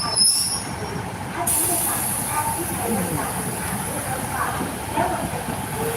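A local train rolling past close by at Surin railway station in Thailand, with a sustained metallic wheel squeal and steady rumbling, continuous throughout.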